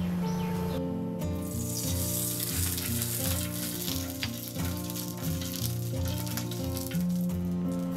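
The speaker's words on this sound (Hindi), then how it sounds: "तवे को हम तेल से ग्रीस करेंगे।" Oil sizzles and crackles steadily on a hot tawa griddle being greased, a continuous close frying hiss, with no talking.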